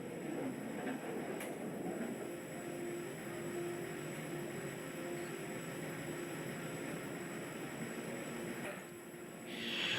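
A roller coaster train departs the station in the NoLimits 2 simulator on the Sovereign ride, a steady broadband rumble of wheels and track noise that holds level throughout, with no speech.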